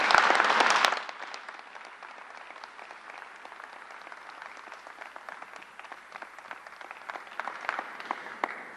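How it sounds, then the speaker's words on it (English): A burst of loud applause at a COVID vaccination briefing cuts off after a second, then scattered clapping continues steadily from a crowd. "let's have a big round of applause for County Executive Steve Bellone"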